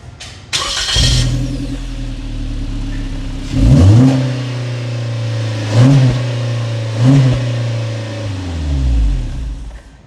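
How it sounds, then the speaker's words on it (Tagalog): Suzuki Jimny 3-door fitted with a Jaos Battle Z exhaust fires up close by, then gives three or four sharp throttle blips that fall back to a throaty idle. "We'll start the engine."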